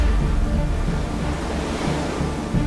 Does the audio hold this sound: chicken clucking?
no